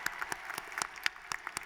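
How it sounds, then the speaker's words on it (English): Scattered clapping from graduates at a university commencement ceremony, uneven and fairly quiet, with sharp individual claps standing out against a soft patter. "Give yourselves a round of applause."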